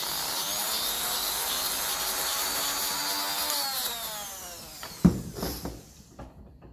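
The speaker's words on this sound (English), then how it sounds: "there's a little brush fitting for the Dremel, and I'm going to give that a nice soft clean out" A Dremel rotary tool with a soft brush head scrubs a part from a 1953 Ferguson 20 TEF diesel tractor, a faint steady whine that winds down with a few light clatters as it stops.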